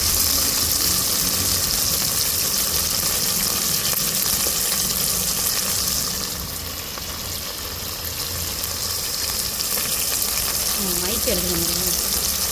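Onions frying in a pan for vegetable biryani give off a loud, steady broadband hiss and crackle that fills the whole stretch, dipping slightly midway, with a voice speaking briefly over it.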